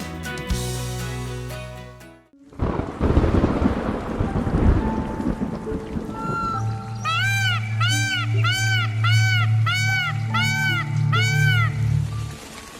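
The first monsoon rain arrives in Gujarat: a heavy downpour and rolling thunder start abruptly after a brief musical passage, with rain continuing loudly under a bright, repeating melodic score.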